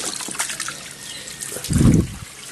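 Water from a household supply splashes and trickles out, with scattered light drips first and then a short, louder gush of falling water close by.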